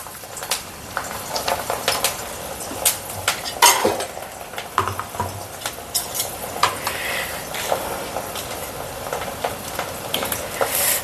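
Garlic and mustard seeds fry in hot sesame oil in a pan, sputtering and crackling up close, with repeated spoon scrapes and metal clinks against the pan, no voices.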